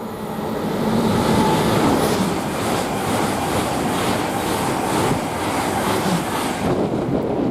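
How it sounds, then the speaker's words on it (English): A Great Western Railway train rolls through Didcot Parkway station with a loud, steady roar of wheels and carriages. Faint rhythmic clatter sits over a broad rumble that holds for several seconds before easing slightly. "Now we've got a Great Western Railway passing through here"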